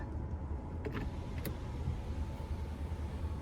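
A motorized sunroof shade slides back in a 2018 Chevrolet Equinox LT 1.5T, a faint, even electric whir under steady low cabin hum, with a couple of soft clicks.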